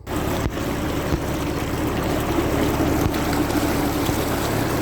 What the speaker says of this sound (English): I'm going to go and start the engine now.